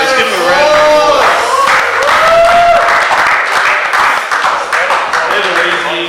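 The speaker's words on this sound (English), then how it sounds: "Give a round of applause." Spectators at an RC drift competition break into loud, sustained applause and cheering, with a voice talking over the clapping.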